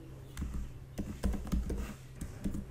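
Typing on a computer keyboard while a web address is entered into an API client. Quiet, irregular key taps and clicks come in short bursts, close to the microphone, with no talk.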